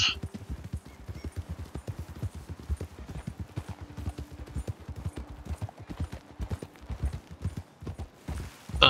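Horse hooves clip-clop steadily in Red Dead Redemption 2, a close, even trotting rhythm that keeps going throughout over faint ambient noise, with a brief whinny-like sound near the end.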